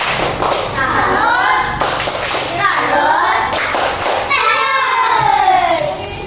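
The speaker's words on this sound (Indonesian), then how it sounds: "tepuk salut dulu untuk si Yasmin" Schoolchildren in a classroom clap in sharp rhythmic bursts of a 'tepuk salut' clapping routine for a classmate, with their chanting voices loud over the claps.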